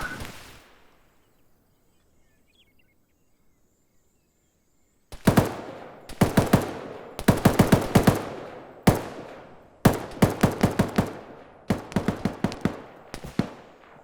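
Gunfire exchange in the Arma 3 military shooter: after a few seconds of near silence, sharp rifle and machine-gun shots crack in rapid bursts and single reports, loud and close, with echoing tails and no talk.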